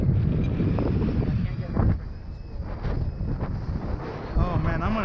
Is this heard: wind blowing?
yes